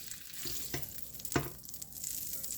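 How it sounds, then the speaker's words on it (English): Cabbage sizzles and fries steadily in a pan, a constant crackling hiss with occasional louder pops and stirring scrapes. "we're going to start the frying process for our cabbage."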